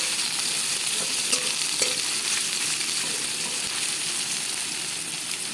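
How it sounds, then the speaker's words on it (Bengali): Potatoes fry in hot oil in a wok, a steady dense sizzle with occasional scrapes and knocks of a spatula stirring them, close and continuous with no talking. "তেলের মধ্যে, কড়াইয়ের মধ্যে আলু ছেড়ে দিলাম"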